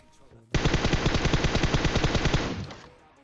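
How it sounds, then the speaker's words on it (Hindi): A sustained burst of rapid automatic M4 rifle gunfire in PUBG Mobile, loud and close, firing steadily for about two seconds before cutting off. "अब यहाँ पे भले ही मैं 20 गोली चलाता हूँ"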